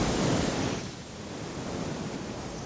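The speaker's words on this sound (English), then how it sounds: "So now if we play that again, you'll notice that when we go inside, the wind quiets down." Wind buffeting a camera microphone outdoors, loud and roaring for the first second, then dropping to a softer, steady hiss as the recording moves indoors.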